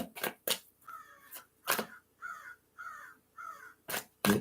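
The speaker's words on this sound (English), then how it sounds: "I got a crow outside the window" A crow caws outside a window, giving a series of hoarse, evenly spaced calls at moderate distance, broken up by a few sharp tapping knocks.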